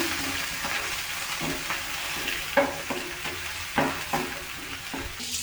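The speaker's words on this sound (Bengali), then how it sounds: "রসুন, জিরা দিলাম, তেজপাতা দিলাম। এগুলোকে একটু নাড়ছি।" Garlic, cumin and bay leaf frying in a pan for chicken and potato curry, stirred with a utensil that scrapes and taps repeatedly over a constant close sizzle, with no talking.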